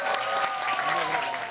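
An audience applauds for jazz pianist Danilo Perez at an event marking the 50th anniversary of Panama–Korea diplomatic relations, with steady dense clapping and faint voices underneath.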